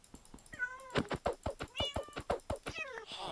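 A cat in Minecraft meows repeatedly in quick succession, a string of short rising and falling calls, close and clear with no talk over them.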